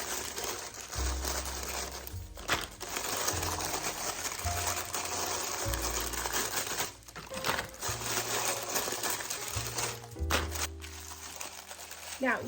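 Saltine crackers being crushed by hand in their bag for homemade shake and bake coating, a steady crinkling and crunching that runs throughout with a low hum underneath.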